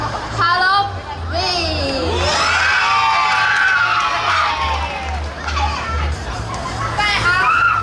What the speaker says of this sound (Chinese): 你们是想尖叫是吗？